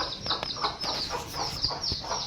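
Chickens being rounded up and tied at a home cluck steadily at close range in rapid, repeated bursts, with no voices.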